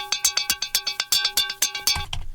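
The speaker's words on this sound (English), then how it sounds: "actually it is a synth melody from a modular synth" A modular synth melody made of short plucky, percussive notes, a rapid even run of clicky tuned hits with a sustained tone beneath, ending in a brief rumbling wash, alone with no talking.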